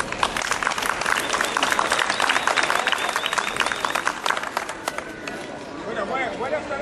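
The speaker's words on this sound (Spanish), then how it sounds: "Lucio, un aplauso, por favor." An audience at a Spanish historical fencing and rapier event breaks into lively applause, loud and dense at first, then thinning out near the end.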